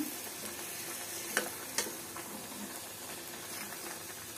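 Dried hilsa with radish, eggplant and spices sizzles in a pan while being stirred, a steady close hiss with two sharp utensil clicks early on.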